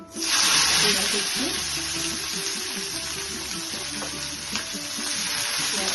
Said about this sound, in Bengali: এখন পেঁয়াজগুলোকে ভেজে নিচ্ছি। পেঁয়াজগুলি ভাজা হয়ে যাচ্ছে